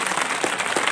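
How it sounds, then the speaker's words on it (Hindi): Crowd clapping at a rural village gathering for a new paddy procurement centre, a continuous wash of applause filling the whole short moment at fairly close range. "जोरदार भूपेश बघेल ताली बजाओ एक बार"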